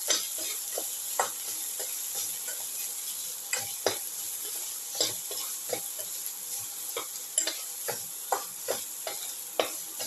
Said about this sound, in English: Put in the ginger and the salt.